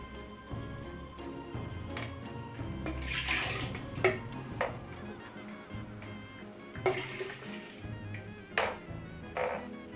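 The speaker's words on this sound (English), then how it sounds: "I'm gonna transfer my pumpkin punch into my drinks jug." Homemade Jamaican pumpkin punch poured from one container into a drinks jug, a close liquid splashing and gurgling in several bursts with small clinks between pours.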